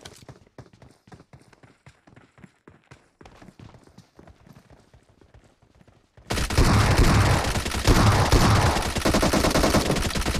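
Gunfire in the mobile game PUBG Mobile starts as rapid, distant-sounding single shots and short bursts, then abruptly switches to loud, continuous close automatic fire that runs to the end.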